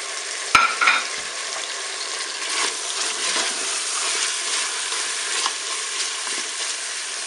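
Onion pieces browning in a Cookeo multicooker: a sharp clink at the start, then a low, steady sizzle with faint stirring scrapes, no voices.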